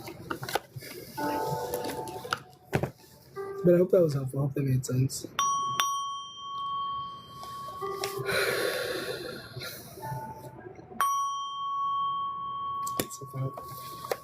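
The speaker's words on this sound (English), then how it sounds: "Okay, I'm gonna hit the bell." A meditation bell is struck twice, each strike ringing out with a long, steady, shimmering sustain that slowly fades; a person talks softly before and between the strikes.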